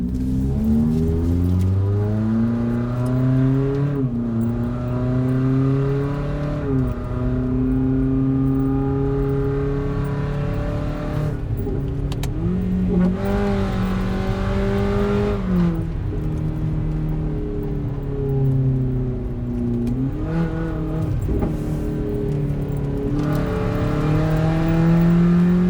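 2017 Toyota Corolla with a muffler delete, heard from inside while driving, the loud raspy engine climbing and falling through repeated revs and gear changes over nearly half a minute.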